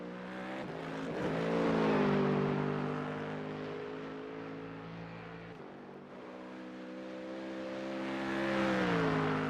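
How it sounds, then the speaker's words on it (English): A Ford Mustang GT3 race car roars around Mount Panorama in a racing game, its engine note held loud and steady, rising and falling through gear changes with a dip midway. "Sound-wise, the Mustang, one of my favorites. Ah, sounds so good."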